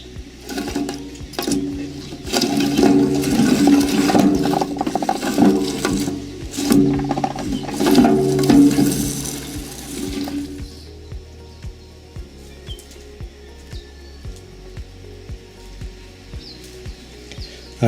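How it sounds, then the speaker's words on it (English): A small drum on a coffee husking machine rattles and churns as it peels husks from coffee seeds, a busy clattering mechanical noise for about ten seconds before it drops to quieter, sparse ticks. "This little drum peels the husks off and leaves the seeds."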